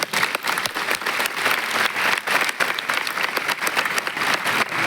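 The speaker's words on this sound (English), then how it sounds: "Can we have a huge round of applause for their achievements?" An auditorium audience at a college event gives sustained applause, a dense and even wash of many hands clapping that continues throughout at moderate loudness.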